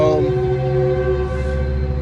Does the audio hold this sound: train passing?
yes